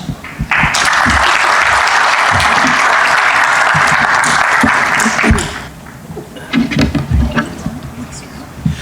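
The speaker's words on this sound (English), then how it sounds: "please another round of applause for our panelists" Audience applause for a conference panel fills the first five seconds as a loud, dense burst of clapping, then fades into scattered claps and murmuring voices.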